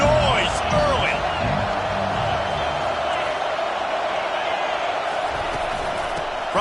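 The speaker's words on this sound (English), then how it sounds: "This crowd bringing the energy and noise early." A packed football stadium crowd at Alabama roars in a steady, loud wash of cheering, with whistles and whoops rising above it and a commentator talking over the noise.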